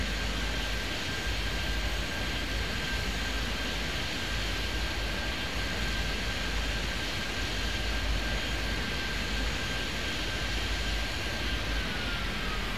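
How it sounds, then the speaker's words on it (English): Simulated airliner departing in the air traffic control game Airport Madness 3D, a steady loud broadband engine roar with a faint whine held throughout, continuous and unchanging, no voices. "that's a plane's leaving"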